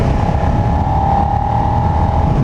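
A 2019 Suzuki SV650X motorcycle rolls on the throttle in fifth gear, its engine droning loud and close with a steady tone that rises slightly, buffeted by heavy wind noise throughout.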